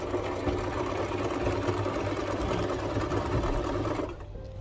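A sewing machine stitches holiday plate mats with a steady, close mechanical whir and rapid needle rhythm that stops abruptly near the end.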